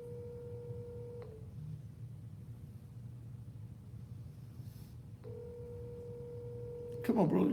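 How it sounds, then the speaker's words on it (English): Telephone call being placed: a steady dial-type tone runs for about a second, then after a pause a second tone begins, over low rumbling background hum, with a brief louder burst at the end. "Let's see if he'll answer the phone."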